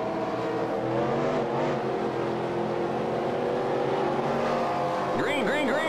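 Pack of NASCAR stock cars in the NASCAR Racing 2003 sim accelerating at a green-flag restart, a steady loud engine drone with pitch climbing near the end as a car shifts, someone talking over it throughout.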